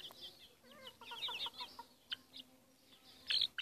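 Chickens clucking close by in a backyard with a nest, soft repeated clucks and a few sharper squawks scattered irregularly, the loudest burst near the end, no voices over them.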